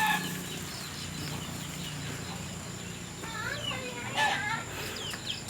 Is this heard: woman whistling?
no